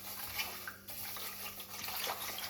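Water poured onto sugar and salt in a bowl for poori dough in a village kitchen, a short soft splashing pour, faint and close, with no talk.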